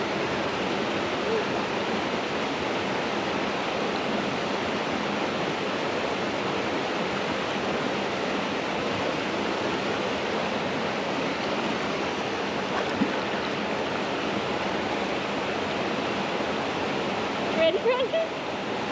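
A waterfall at a campsite rushes continuously in a dense, steady roar close by, with a few brief splashy sounds near the end and no talking.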